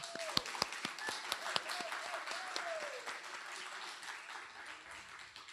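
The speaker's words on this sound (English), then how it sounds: "Please join me in another round of applause for a truly fresh and thought-provoking conversation." Audience applause fills a hall at the close of an Indigenous book club conversation with an author, a steady, moderately distant patter of many hands with a few sharp nearby claps, gradually thinning out.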